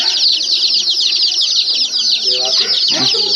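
Coloured chickens cluck at Fundera Park in Yelagiri, under a dense, bright chatter of birds and a nearby voice toward the end.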